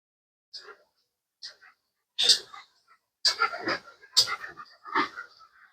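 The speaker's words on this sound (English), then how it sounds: "My dogs just came downstairs. You can hear them panting." Close, breathy bursts of dog panting come in uneven clusters, quick huffing breaths with short pauses between, loud against an otherwise silent room.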